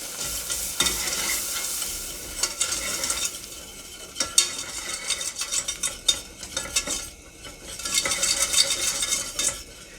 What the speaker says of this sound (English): And whisk.